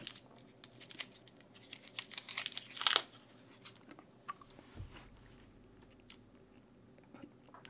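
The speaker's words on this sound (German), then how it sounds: "Oh, ich muss noch eine Hustenbonbon nehmen." A cough drop is unwrapped with crinkly, crackling wrapper noises, then chewed and crunched. The sounds are faint and close, and they come in bursts of crinkling before a quieter stretch of chewing.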